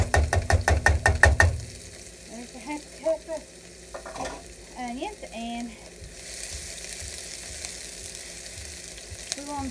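Onions sautéing in a pan with steady sizzling, opening with a run of loud rhythmic knocks and scrapes, then a hissing fry underneath occasional clinks and stirring sounds, no speech.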